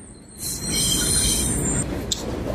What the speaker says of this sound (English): you're gonna hear a train